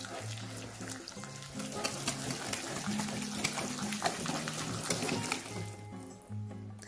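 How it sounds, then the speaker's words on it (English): Keto cookie mixture for no-bake strawberry pistachio cookies being stirred until the sugar dissolves, a steady close scraping and swishing with light clinks, continuous and alone without talk. "now we're just going to stir this until everything is fully incorporated"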